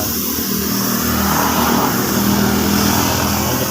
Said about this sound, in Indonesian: ini kita semproti tipis-tipis saja seperti ini, kita ratakan.